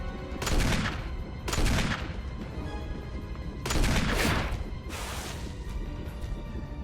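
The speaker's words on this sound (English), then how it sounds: "we could just shoot them until the rocket launcher comes down" Video game gunfire in Resident Evil HD: several heavy bursts of shots aimed at enemies, loud and close, each burst trailing off into a ringing tail, with no talking.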